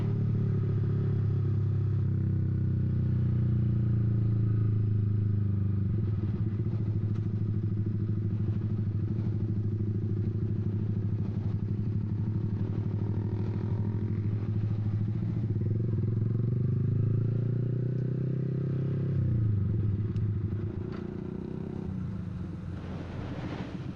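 A Yamaha R15 V3 motorcycle engine drones steadily while riding, with wind buffeting the microphone, then the engine note drops and eases off near the end as it stops.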